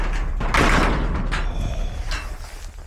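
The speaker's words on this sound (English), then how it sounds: "Let me shut this door down a minute." A door is pushed shut indoors on a freezing night, giving a close, loud sliding rush and thud followed by a few softer knocks and bumps.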